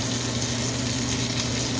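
Steak sears in a very hot cast iron pan, giving a steady, close, even sizzle with no talking.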